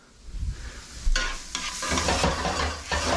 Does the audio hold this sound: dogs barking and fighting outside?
no